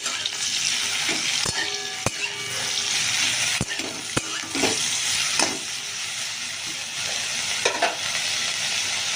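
Cauliflower frying in a pan beside a pan of potatoes for a spiced vegetable dish, a steady close sizzle with a few sharp clicks of a spoon, no voices.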